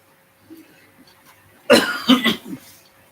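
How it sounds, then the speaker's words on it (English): A person coughs in a hot house with a fan running, three or four sharp, close bursts in quick succession after a quiet stretch with faint background noise. "My nurse is really coughing."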